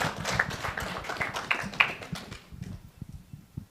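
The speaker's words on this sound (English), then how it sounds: "Give him a round of applause there" A brief, sparse round of applause from a small seminar audience, a few close claps clustering early and then thinning out, fairly quiet with a muffled room tone.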